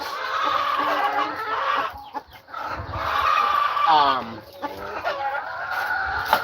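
DeKalb breed chickens cluck and squawk in a busy, overlapping chorus on a farm, fairly close and continuous, with a voice talking among them.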